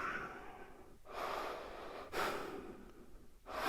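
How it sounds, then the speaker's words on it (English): Slow, audible breaths, long inhales and exhales in a steady rhythm, come from close by during a yoga flow, with no talking. "we'll take 2 breaths"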